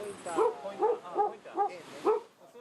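Dog barking near a Fukushima evacuation zone, five short, evenly spaced yips close by, loud and clear with quiet gaps between them.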